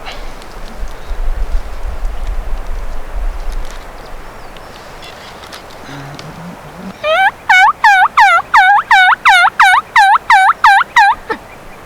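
A wild turkey gobbles in a long rapid burst of rattling notes, loud and fairly close, after several seconds of low rumbling background noise.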